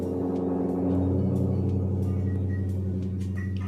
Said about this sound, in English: God, my neighbor's car is so loud.